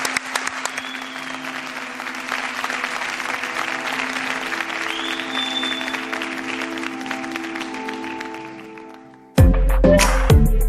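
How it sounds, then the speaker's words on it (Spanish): An audience applauds for someone on a Spanish radio broadcast, a steady, dense wash of clapping that swells and then fades over about nine seconds before an abrupt cut to louder program sound. "Os pido un aplauso para él"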